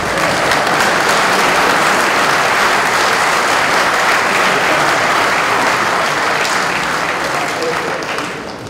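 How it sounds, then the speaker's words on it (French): Sustained applause from a large crowd at a political coalition meeting in Côte d'Ivoire, loud and steady for several seconds before tapering slightly at the end. "J'aimerais bien quelques applaudissements pour la charte."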